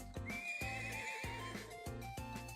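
Horse in the Trails of Cold Steel video game whinnies loudly over a steady, rhythmic clip-clop of hooves, with several evenly spaced hoof strikes and game music underneath.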